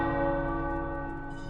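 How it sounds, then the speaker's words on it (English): Tower bells ring in the Marvel's Midnight Suns video game, a steady sustained peal with rich ringing overtones that holds at an even loudness throughout, alone without voices. "The tower bells are ringing."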